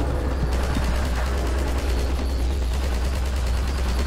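Gunfire in the video game Half-Life 2 during a vehicle section on a highway, a dense, continuous rattle of shots over a loud, steady roar, with no pauses across the stretch.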